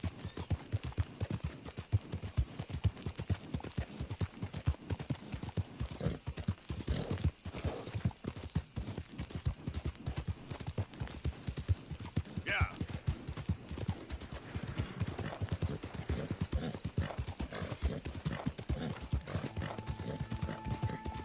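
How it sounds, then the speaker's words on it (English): Tennessee Walker horses in Red Dead Redemption 2 trot with continuous, even clip-clopping hooves, close and steady throughout, with a brief whinny partway through. "Another couple Tennessee Walkers."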